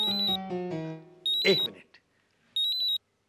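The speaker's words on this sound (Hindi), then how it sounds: "घर से फोन है।" A phone rings with an electronic ringtone in repeated short bursts of bright beeping, separated by a tonal chime and brief pauses, with a voice speaking briefly.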